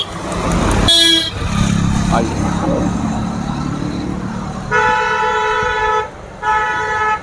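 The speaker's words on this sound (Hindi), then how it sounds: "ये थोड़ा रोड देख करके पार करना है, ट्रैफिक है जी" Car horns honk in loud harmonic blasts over busy road traffic near a Ganga barrage in Kanpur, with one sharp toot early and two long honks near the end, while someone speaks briefly.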